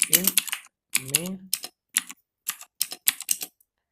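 C++ code is typed on a computer keyboard in short bursts of quick, close key clicks separated by pauses, with a voice briefly audible among them.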